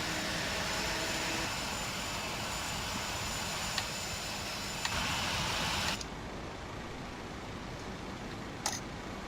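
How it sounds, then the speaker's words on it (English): A simulated aircraft engine in Microsoft Flight Simulator X drones in a steady, loud, broadband roar that changes tone partway through, with a few faint clicks and no talk. "now it's time for that engine to rev up"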